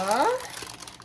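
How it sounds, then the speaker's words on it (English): Parchment paper crinkles and rustles up close with light crackling as it lines a baking form, briefly overlapping a voice at the start. "I just put in a piece of parchment paper"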